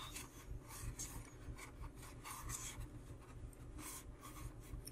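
Glued paper box tabs are rubbed along their edges while assembling a push-pin box, giving soft, close, continuous scraping and rasping strokes at a low volume.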